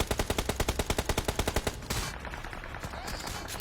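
Rapid bursts of automatic gunfire in the BGMI battle royale game, a fast regular string of loud shots for nearly two seconds, then a rougher, noisier stretch of continued fire and clatter.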